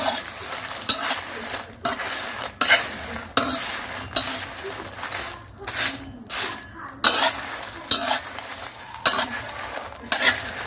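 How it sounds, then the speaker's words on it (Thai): Dried chili dry-roasting in a pan over low heat, stirred continuously with a rhythmic scraping and rustling of chilies against the metal and a light sizzle, while someone talks over it. "ค่อยๆคั่วไปเรื่อยๆครับ ไฟอ่อนๆครับ"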